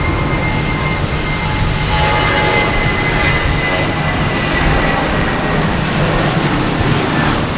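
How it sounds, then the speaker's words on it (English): JetBlue airliner with a white nose departing Boston Logan Airport for Raleigh-Durham, its jet engines producing a loud, steady broadband roar that holds throughout without pause. "Here we go, JetBlue. Heading to Raleigh-Durham with the white nose"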